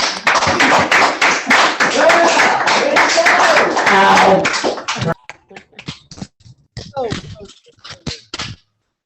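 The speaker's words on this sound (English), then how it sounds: "Guys, can you give them one more clap there?" Middle school students clap loudly together in a gym for visiting musical guests, a dense burst of applause for about four seconds that thins into scattered individual claps and brief voices.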